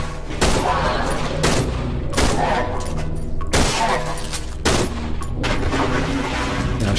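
Repeated gunshots from the horror video game Cry of Fear, four loud, sharp blasts spaced about a second apart with ringing tails, firing close and dominating the mix.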